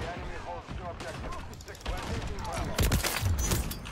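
Shotgun fire in Modern Warfare comes as a few heavy booming blasts amid game clatter, strongest toward the end, with a person talking over the first half.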